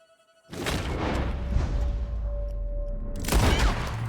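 Gunfire in Red Dead Redemption 2, a sudden loud boom with a long rumbling tail, then a second blast near the end, heard close and without talk.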